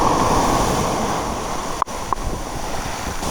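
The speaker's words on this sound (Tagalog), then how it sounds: "Grabe pala yung lakas ng alon ng uwan." Strong sea waves surge and crash onto a rocky shore, once sandy, during a flash flood storm, a steady loud roar of surf with wind buffeting the microphone and two brief sharp knocks.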